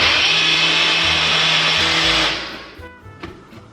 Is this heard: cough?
no